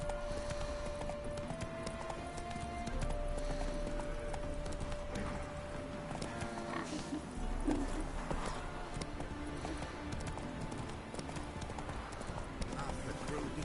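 Steady clip-clop of a horse's hooves while riding in The Witcher, a continuous even trot up close, with game music and ambience running underneath throughout.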